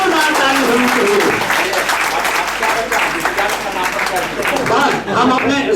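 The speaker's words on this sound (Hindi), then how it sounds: "धन्यवाद, जोरदार ताली होनी चाहिए।" An audience gives loud, dense, sustained applause at an MRI inauguration ceremony, with many hands clapping close together throughout and a voice briefly audible over the claps.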